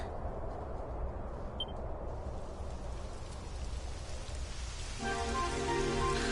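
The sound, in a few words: rain in a video game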